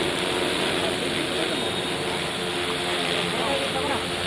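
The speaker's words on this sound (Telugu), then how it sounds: "డ్రోన్ లేపను" A drone flies over a Dry Day awareness rally, giving a steady, close whirring drone under a constant wash of broadband noise that holds level for the whole stretch.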